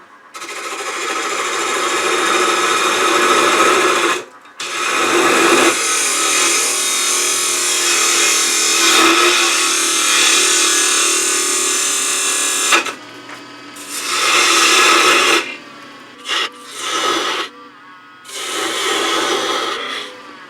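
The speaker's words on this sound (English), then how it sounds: "I'm going to use a 1/2 inch spindle gouge" A 1/2 inch spindle gouge cuts wood on a lathe while making sea urchin ornaments, in repeated passes of rasping scraping separated by short pauses. The motor runs under each pass.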